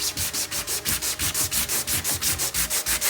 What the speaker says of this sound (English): we're gonna start with 80 grit. Essentially what we're gonna do is pretty much sand down to the metal.